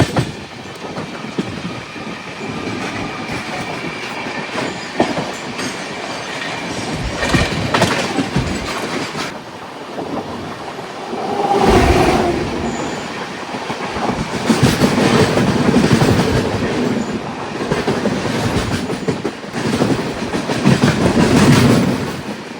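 A Sabarimala Special passenger train runs on the Kadapa to Nanded section near Hyderabad's outskirts, with a steady rumbling roll and rhythmic clickety-clack of wheels over rail joints, swelling louder in stretches, with no voices.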